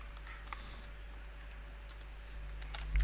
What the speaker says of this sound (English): Let me simply type in a name